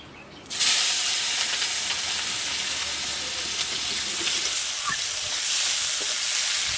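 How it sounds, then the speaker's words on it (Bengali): Chopped onions and potatoes fry in oil, with a loud, steady, dense sizzle that bursts in abruptly after a brief quiet start and then holds for the rest of the clip. "পেঁয়াজ ভাজা ভাজা করে নিয়েছি"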